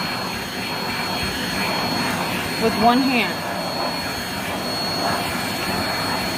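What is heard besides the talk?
Rainbow SRX vacuum cleaner cleaning baseboards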